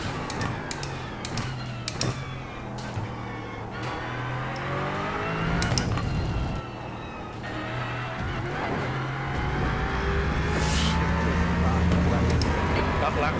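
Aston Martin race car in iRacing, engine droning steadily through a lap with rising and falling revs, gear changes and brief tire squeal, with a person talking over it throughout.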